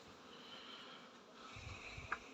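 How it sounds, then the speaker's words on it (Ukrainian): A soft, steady buzzing drone of honeybees flying around their hives on a 14-degree January day, faint and continuous, with a few closer passes near the end. "Вже третій день облітуються бджоли."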